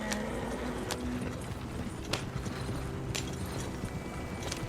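A horse team pulling a wagon in the Red Dead Redemption video game gives off faint, continuous clip-clopping hooves over rumbling wheels and road noise, with a few sharper knocks.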